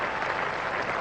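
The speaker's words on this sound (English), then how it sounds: "200 up for England. Brings the applause." Cricket crowd at an England versus Australia Test match breaking into steady, dense applause, a broad wash of clapping that holds evenly throughout without pause.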